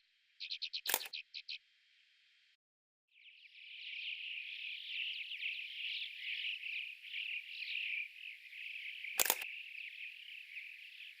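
Camera shutter clicks while photographing wildlife in a snowy landscape: a quick burst of rapid clicks, then a single crisp click later, set against a steady chorus of insects or frogs.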